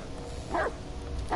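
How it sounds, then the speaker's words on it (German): A dog in the horror video game Blair Witch gives a single short bark at a distance, set against a steady low ambient drone, followed by the start of a second bark. "Auf der anderen Seite bellt der Hund auch gerade wie blöd."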